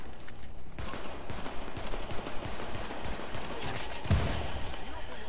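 A pistol from the video game The Division fires in rapid bursts of sharp, repeated shots with a louder crack near the end, mixed with game noise while someone talks over it.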